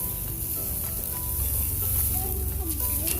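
Steak sizzling in a pan after being flipped, a steady, loud, close hiss of frying fat, with faint voices murmuring underneath.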